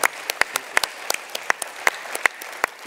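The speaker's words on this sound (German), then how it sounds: "Und nochmal Beifall für Sir Henry" A small audience in a German lecture hall gives scattered applause, with individual claps ringing out sparsely and irregularly for a few seconds and no voices heard.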